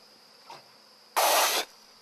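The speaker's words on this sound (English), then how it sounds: "We continue looking through a swarm of bees clustering on a branch of a tree" Swarm of bees clustered on a tree branch in Uganda, a faint buzzing drone that swells into a loud, dense burst for about half a second, near and alone.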